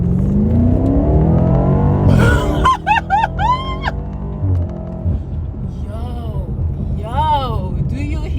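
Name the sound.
BMW M8 Competition Gran Coupe accelerating in track mode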